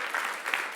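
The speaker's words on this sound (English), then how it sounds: "give a round of applause to all of you" A short burst of dense applause from a conference audience at a closing keynote, steady clapping throughout.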